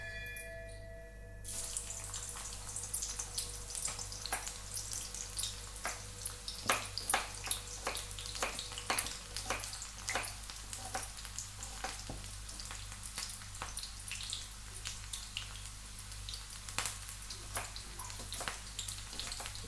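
Chopped onion frying in a hot kadhai for an okra bhaji, giving a steady crackling sizzle with scattered pops that runs for about twenty seconds at moderate loudness, without any talking.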